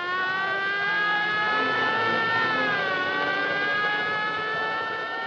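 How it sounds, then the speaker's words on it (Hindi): A loud, steady wailing police siren fills the whole stretch, its pitch sliding down and back up as it approaches, with no voices over it. "ये पुलिस के सायरन"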